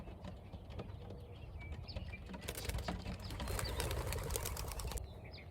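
Racing pigeons in a loft make soft flapping and shuffling sounds, with rustling wing bursts that build up partway through, close and fairly quiet, and no voices.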